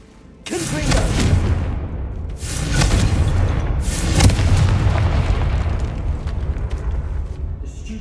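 The Confringo fire spell goes off in a tomb in Hogwarts Legacy, with three loud booming blasts a couple of seconds apart, each trailing into a long rumbling roar.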